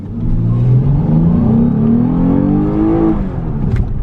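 A 2015 Lexus ES350 or GS350 sedan accelerating hard from 0 to 60 in manual mode, engine note rising steadily in pitch through a gear before easing off, loud and close inside the car.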